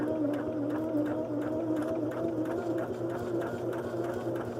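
A sewing machine stitches pieced fabric along a marked seam line, giving a rapid, even mechanical whirr with a regular ticking pulse that runs continuously.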